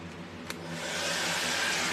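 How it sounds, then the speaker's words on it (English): New blow dryer aimed at freshly painted rainboots: a soft click, then the airflow swells into a steady, rushing hiss that holds to the end. "Got a new dryer."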